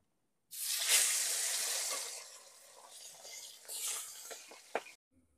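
Pangas fish pieces frying in hot oil in a pan give a steady loud sizzle that fades partway, swells again, then stops abruptly with a few sharp crackles near the end.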